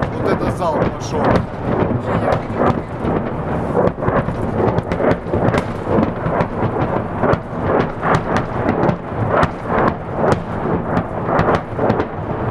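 Artillery volley of shells firing over Mariupol, a dense run of loud, rapid booming blasts and rumbling impacts rolling continuously, some near and some distant, with no talk over them.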